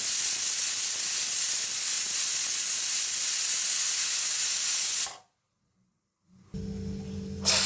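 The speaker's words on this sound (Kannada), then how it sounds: "ಈಗ ಹಾಕ್ಬಿಟ್ಟು ಒಂದು ವಿಷಲ್ ಬರ್ಸ್ಕೊತೀನಿ." Loud, steady jet of hissing steam from a pressure cooker whistle while radish sambar cooks, running for about five seconds before cutting off abruptly, followed by a brief silence and quieter kitchen noise.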